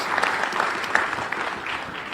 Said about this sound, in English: So do applaud the Finance Minister for that as well.